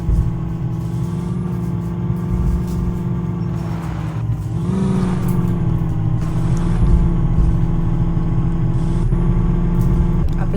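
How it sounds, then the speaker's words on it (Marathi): A Mahindra Thar is maneuvered into a parking spot at a private house. Its engine drones steadily and loudly close by, swelling briefly partway through as it moves, then settling back to a low rumble. "आता करूया थार पार्क"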